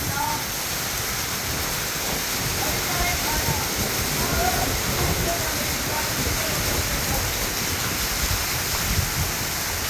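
Heavy monsoon rain pours down in Punjab as a dense, unbroken roar of water that stays loud and steady from start to finish.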